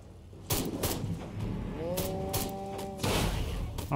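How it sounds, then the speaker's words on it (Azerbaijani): A cow moos once in the video game Destroy All Humans, a drawn-out lowing call heard mid-clip between sharp impacts and bursts of game action noise. "bir dənə inək götürüm, inəyi götürüm"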